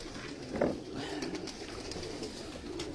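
Pigeons coo softly in a breeder's flying setup, a low murmuring call over faint background ambience, with one slightly louder note near the start.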